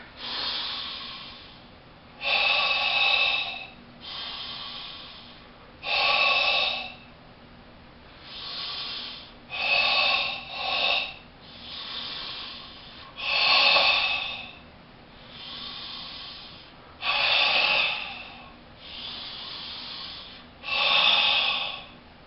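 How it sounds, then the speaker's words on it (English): Slow deep breathing in a pull-in, push-out exercise, with about a dozen loud breathy inhales and exhales in an even rhythm, close to the microphone and without talking. "that's an example of properly using the pull in and push out method of breathing"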